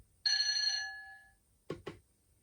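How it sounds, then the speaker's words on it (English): AWS bell from the DCC sound decoder of a Bachmann Class 70 model locomotive, a bright ringing tone that fades over about a second, then two quick soft knocks. "And then 22 is the AWS bell."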